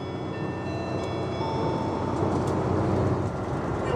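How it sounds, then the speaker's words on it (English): A passenger train in Japan, travelling toward Noboribetsu, runs steadily on its rails, heard from inside as a broad continuous rumble and hum with no talk over it. "So I took the train to Noboribetsu."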